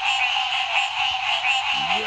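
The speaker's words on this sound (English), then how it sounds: "that's a giant bullfrog" A loud, dense frog chorus at a spot where a giant bullfrog was caught drones steadily and continuously through the whole stretch, with no talking over it.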